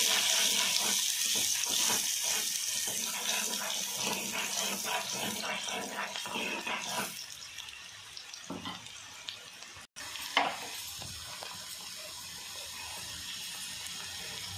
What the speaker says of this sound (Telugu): ఇప్పుడు ఆనియన్స్ అనేది మనం మంచిగా వేయించుకుందాం